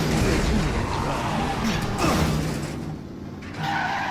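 Car skidding and crashing in Resident Evil 7, with a loud engine roar, screeching tires and grinding impacts that surge, dip briefly, then rise again.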